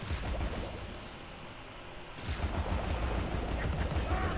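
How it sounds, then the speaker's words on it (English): Gunfire in the video game Alice: Madness Returns, heard as a loud, continuous barrage of dense crackling blasts that eases off briefly midway and then swells again. "Oh, I was shooting that bomb."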